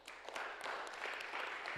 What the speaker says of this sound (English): can we please give Department of Parks and Recs a round of applause?